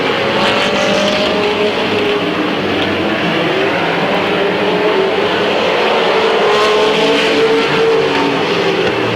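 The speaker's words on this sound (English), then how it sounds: "Dwayne Hartline putting on a show. Driving that outside lane." Race cars roar around Midvale Speedway in a 1995 event, a loud continuous engine drone with layered cars passing and shifting pitch, heard from the grandstand side.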